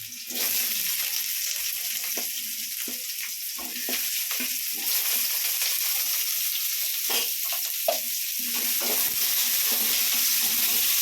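Sliced onions sizzle in hot oil with cinnamon, cloves, ginger, green chillies and garlic in a pot, a steady loud hiss broken by occasional scrapes and stirring clatters, with no talking.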